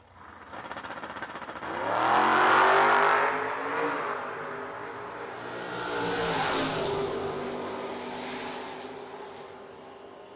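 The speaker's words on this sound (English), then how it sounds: "Dan Wiley left lane into 2000 Camaro" A 2000 Camaro and a COPO Camaro launch at a drag strip. Engines roar loudly, rising through the gears before fading, then a second swell of engine noise passes.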